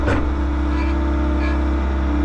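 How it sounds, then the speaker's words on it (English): A small Doosan four-cylinder diesel engine in a Bobcat T66 skid steer idles steadily up close, with a brief rising whine near the start as the turbo spools, then a constant low rumble. "you can hear that little turbo spool up, all 74 horsepower of fury."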